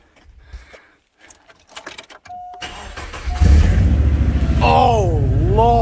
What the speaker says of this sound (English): let me take out the silencer. We'll see what it sounds like without it